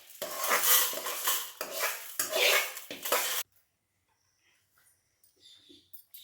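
Roasted dried chillies scraped from a pan onto a plate to cool while making idli podi, a dense burst of metal-on-metal clatter and scraping for about three seconds, then near silence with a few faint clinks.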